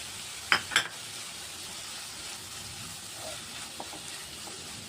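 Vegetable momo filling with green chilli sautéing in a pan, a soft steady sizzle throughout, with a couple of sharp clatters of a spoon against the pan near the start.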